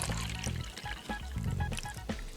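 Warm tap water from a sink poured into a container, a steady splashing trickle with gurgles running continuously at close range.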